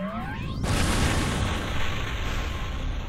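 A blast of Omega Fire, a fire spell in the game Phantom Brave, erupts with a sudden loud boom after a rising sweep, then rolls on as a sustained roaring rumble.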